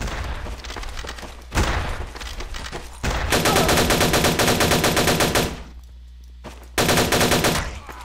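Rapid bursts of automatic gunfire from a weapon in an online shooter game, loud and close, fired in several sustained strings separated by brief pauses.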